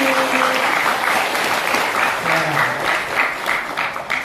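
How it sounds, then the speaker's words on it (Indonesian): Warm applause from an audience after a dance performance: a continuous, fairly loud spread of many hands clapping, holding steady for several seconds, with light voices faintly underneath. "Tepuk tangan untuk Mbak Utami."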